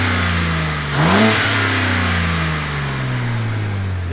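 Stationary car fitted with a front-mount intake, engine held at a steady loud drone, then a sharp rev that climbs and falls back around the one-second mark before settling to a constant idle hum, close and alone.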